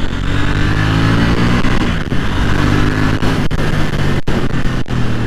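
A KTM Duke 790 motorcycle with a 105-horsepower engine pulls hard under acceleration, its steady, loud engine drone and exhaust note filling the recording, with a few brief breaks near the end.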